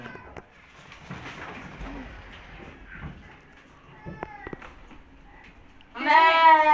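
Goats and pigeons at a livestock pen in Kampung Bustaman: soft cooing and faint murmurs sit under low background noise before a goat lets out a loud, close bleat at the end.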